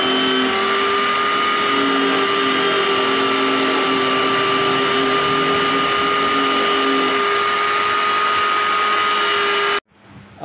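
A small power drill whines at a steady, high pitch for about ten seconds without a break while boring holes in coconut shell pieces, then stops abruptly, leaving a faint shuffle.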